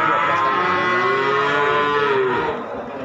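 A Limousin calf moos loudly and close by at a cattle market in Pati, Central Java, a long drawn-out low call that slides in pitch, with faint market bustle behind it.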